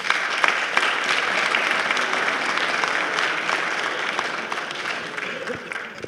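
Sustained applause from an audience at a public gathering or panel event, steady dense clapping throughout, close and fairly loud, with faint voices underneath.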